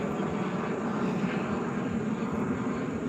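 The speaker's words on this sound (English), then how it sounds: "I was letting that plane leave" An airplane departing and flying overhead, a continuous loud engine drone with a deep low rumble holding steady across the whole stretch, with no voices over it.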